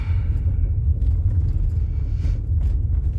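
Low, steady rumble of a car on the drive to work, engine and road noise heard from inside the cabin, even and continuous with no talk.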